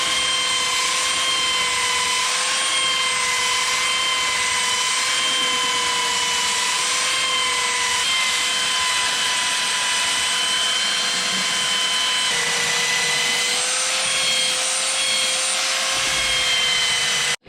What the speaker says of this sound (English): we'll get all that material out of this thing with the belt sander and or a grinder